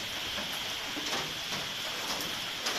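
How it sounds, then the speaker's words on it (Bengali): Dense, steady hiss of heavy rain pouring down, a constant wash of sound with no pauses. "আজ সকালটা শুরু হয়েছে বৃষ্টি দিয়ে। দেখেন প্রচুর বৃষ্টি হয়েছে"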